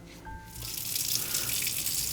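A downstairs faucet left open while flushing a tankless water heater runs into a sink, a steady close splashing rush that builds after a brief tone and then keeps flowing evenly.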